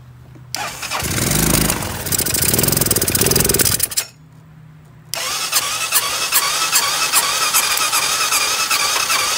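A small engine run on dish soap in place of oil roars loudly while sand is fed into it, then cuts out briefly and restarts into a rougher, buzzing idle.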